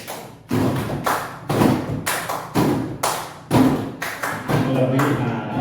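A class claps a rhythmic counting pattern, tepuk 72, as a group: repeated dull, thumping clap bursts in steady groups, fairly close and loud, with voices mixed in.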